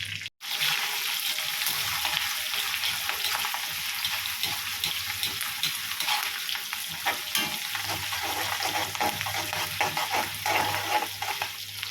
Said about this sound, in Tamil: ஜீரகம் மிளகு போட்டு நல்லா பொரிஞ்சிக்கிட்டு இருக்கு.